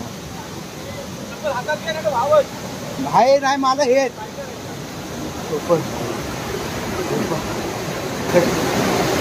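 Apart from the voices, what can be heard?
flowing stream water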